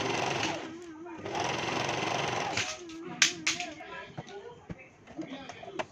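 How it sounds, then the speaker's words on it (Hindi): A sewing machine stitches a straight crotch seam joining two panels of a dhoti salwar, its steady motor whir running in bursts with pauses between them. The stitching sits under a voice. "ये इसी तरह से हम सीधी सिलाई लगाते हुए जाएंगे आसन तक के अपने यानी कि क्रॉच वाले पार्ट तक के इसको सिलाई को लगाना है।"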